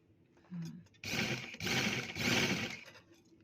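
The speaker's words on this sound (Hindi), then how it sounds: "बिल्कुल किनारे की इस तरह से किनारे की सिलाई लगा लेनी है दोनों ही पीसीस पर।" Electric sewing machine stitching along the edges of a cloth face mask, three quick bursts of rapid mechanical whirring separated by short pauses, close and clear.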